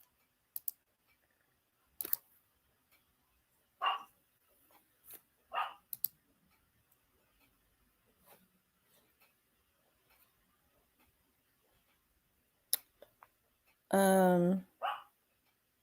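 A dog barks in scattered single yaps at a moderate distance, followed by one loud close burst of barking near the end, among clicks and brief talk in a quiet room.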